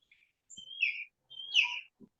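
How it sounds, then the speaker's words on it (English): Birds chirp and sing in two short bursts of high, whistled tweets, with soft low thumps between them and no talking. "The birds, how lovely."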